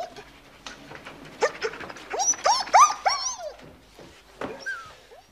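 A dog whimpers and yips behind a closed door in a quiet indoor room, a run of high whining cries rising and falling in the middle, with a few softer whimpers after.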